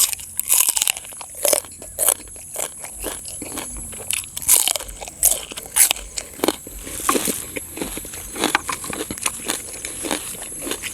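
Loud, close crunching and biting, with crisp, irregular bursts repeating steadily as food is chewed, and no talking.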